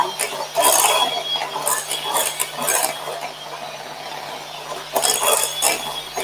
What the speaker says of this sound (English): Just give it a whisk again.